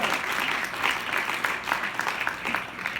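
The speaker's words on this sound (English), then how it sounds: "let's give a round of applause for everybody who put this together." A church congregation claps together in steady, dense applause after a sermon welcome, a broad, even patter of many hands filling the room at a constant level throughout.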